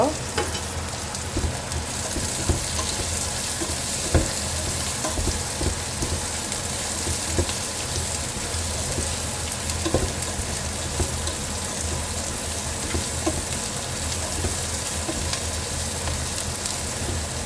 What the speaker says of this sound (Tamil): அதுக்கப்புறம் 1 கைப்பிடி அளவு கறிவேப்பிலை இப்போ வதக்குங்க.